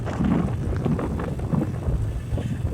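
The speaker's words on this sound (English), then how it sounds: "it's a little windy" Wind buffets the microphone in a steady low rumble outdoors in Hermann, Missouri, gusting unevenly the whole time with no other clear sounds.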